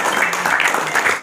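Audience applause at a community gathering in Meerut, a brief dense burst of many hands clapping at close range that cuts off abruptly.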